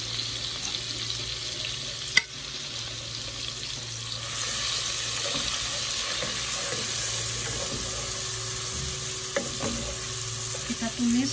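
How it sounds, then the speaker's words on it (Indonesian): Blended green chilies and ginger sizzle and crackle in hot oil in a pan as they are stir-fried for a spicy chicken dish, a steady, fairly quiet frying hiss with occasional stirring clinks and no talk. "Kita tumis sampai mewangi dan layu, baru kita taruh bahan yang lainnya."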